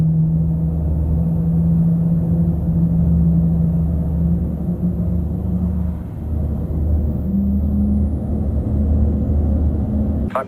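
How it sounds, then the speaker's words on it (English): Boeing 777-300 engine spooling up on start in Microsoft Flight Simulator, a loud steady low rumble and hum that shifts pitch partway through, sustained with no talk. "Alright, let's get engine 1 started."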